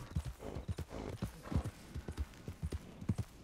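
Hooves of a horse in Red Dead Online clop steadily at a walking pace, a rhythmic series of soft, close thuds on the ground, fairly quiet with no talk over them.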